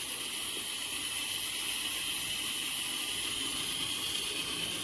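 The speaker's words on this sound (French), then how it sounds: "La vapeur, elle monte vite fait." Steam rising from a couscous pot on the stove, a steady, faint high hiss that stays even and unbroken throughout.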